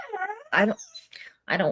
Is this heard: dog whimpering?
yes